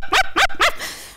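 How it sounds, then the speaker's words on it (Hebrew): A dog barks three quick times in a backyard, loud and close, then the sound trails off. "פעם אחת דודיק יצא לשחק בחצר עם הכלב שלומפר."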